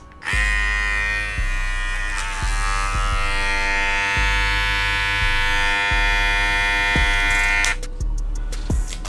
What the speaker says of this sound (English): The next clipper that we're gonna test is the Babyliss Black Effects.